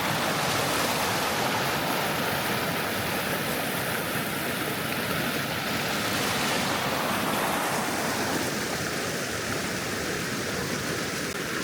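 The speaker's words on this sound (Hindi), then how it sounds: "क्रीक का पानी जा रहा है।" Creek water rushing steadily beside a lakeside campground at Christina Lake, British Columbia, a loud, dense, continuous broadband roar from close by, with no voices and no breaks.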